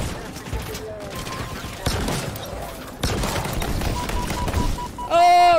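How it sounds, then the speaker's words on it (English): Big bombs and heavy weapons fire erupt in a Halo Infinite final campaign battle, a dense, loud barrage of blasts and gunfire that builds in intensity, with a voice speaking over it. "Who's shooting those big bombs at me?"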